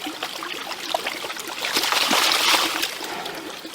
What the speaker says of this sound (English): So we're just washing the front of the riffles there.